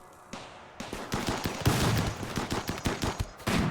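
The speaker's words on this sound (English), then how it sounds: "Turret's turning on to try to slow down the rest." Turret gunfire in the RimWorld video game, rapid bursts of sharp shots rattling in quick irregular succession, loud and close, building into sustained volleys with brief pauses between.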